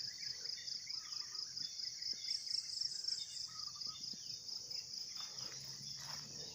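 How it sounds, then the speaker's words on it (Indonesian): Scattered bird calls and chirps sound in a banana plantation at dawn while it is still dark, soft and distant over a constant high shrill insect trill. "Coba dengar suara burung."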